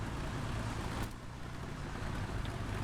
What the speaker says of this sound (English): one thing I do have to give Gaijin credit for is the engine sound on the T-34. It sounds gorgeous.